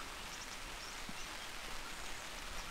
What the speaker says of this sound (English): when it's raining, it's just so nice just to be under the tarp, listening to the raindrops